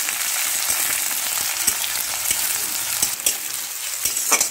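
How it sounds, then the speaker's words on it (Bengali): Chopped onion sizzles and crackles steadily in a pan, fried after a dried red chilli for a Bengali banana-stem (thor) curry, with a few soft stirring scrapes; continuous, close and fairly loud, no talking. "একটু পেঁয়াজটা ভেজে ভেজে নিয়েছি"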